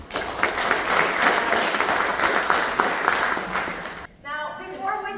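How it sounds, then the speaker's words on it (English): Applause from an audience welcoming a guest speaker at a career leadership talk rolls on steadily, many hands clapping at moderate loudness, then cuts off as a voice begins speaking. "So give her an applause, please."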